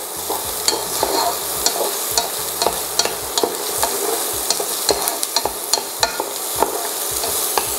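Garlic and shallot fry in a pan with a continuous sizzle, punctuated by frequent rhythmic stirring clicks and scrapes from a utensil, close and clear, with no voices.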